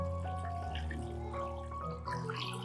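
Clean water is poured into a bowl of eggs with baking soda and salt, a continuous close, bubbling splash throughout.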